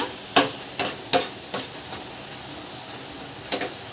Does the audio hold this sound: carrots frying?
yes